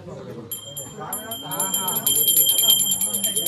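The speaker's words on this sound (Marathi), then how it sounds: "हातात आणि घंटा वाजवा" A hand bell rings steadily during a Konkan Shimga household ritual, bright repeated strikes that grow denser and louder over the final seconds while people talk over them.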